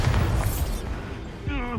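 A Bombarda explosion spell blasts in the Hogwarts Legacy video game, a loud booming burst up front followed by rumbling, with a voice and rising tones near the end.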